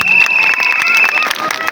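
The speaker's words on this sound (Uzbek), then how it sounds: "Qorbobo, ikkinchi Qorboboga bitta qarsak joylaylik" An audience claps and cheers for Grandfather Frost at a New Year's celebration, a short burst of dense applause with a crowd murmur and a few voices over it.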